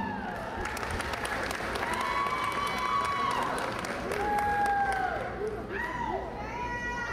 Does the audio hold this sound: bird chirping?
no